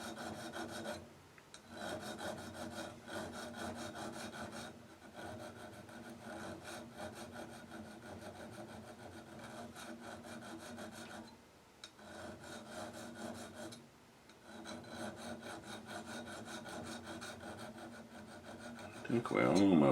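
Steady rasping strokes of a file or sharpener working along the serrated edge of a knife, sustained and fairly close with brief pauses between passes, alone without talk.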